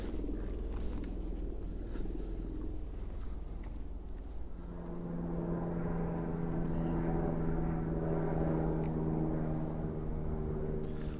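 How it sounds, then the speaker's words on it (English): A low aircraft drone rumbles overhead during a riverside walk near old railway bridges, steady and somewhat distant, growing fuller and more tonal partway through, with no talking. "All I can hear is them helicopters and planes"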